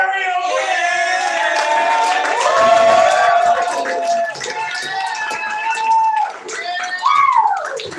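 A live audience cheers and applauds to welcome a band onstage at a songwriters workshop, with loud whoops and excited voices over steady clapping for several seconds.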